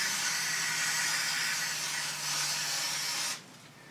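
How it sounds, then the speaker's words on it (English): Aerosol brake cleaner sprays steadily onto the brakes of a Triumph Tiger motorcycle, a loud continuous hiss that cuts off abruptly near the end, leaving quiet room tone. "Good sprayer. Clean the whole thing off."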